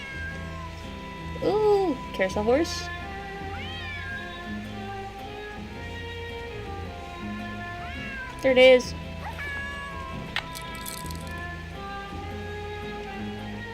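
A cat meows repeatedly in short, rising cries in the video game Nancy Drew: Secret of the Old Clock, over soft background music, with a person talking briefly in between.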